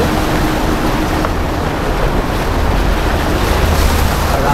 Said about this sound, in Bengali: এখান থেকে জলের স্রোত বয়ে যাচ্ছে।